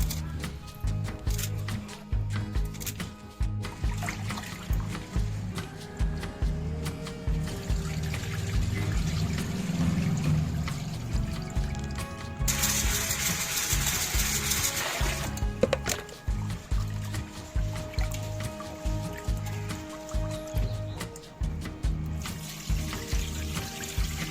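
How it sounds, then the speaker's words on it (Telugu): Jowar (sorghum) grains being washed in water, with continuous sloshing, pouring and trickling close by, steady throughout, briefly brightening into a hissy splash midway. "జొన్నలని 3 సార్లు నీటితో శుభ్రంగా కడుక్కోవాలి"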